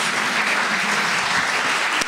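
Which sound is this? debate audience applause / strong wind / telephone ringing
debate audience applause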